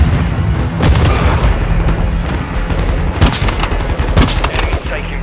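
Gunfire in a 10v10 Domination match of Call of Duty MW2 at Santa Sena border crossing: loud automatic bursts and sharp single shots with booming impacts over game ambience, while in-game voices call out between shots.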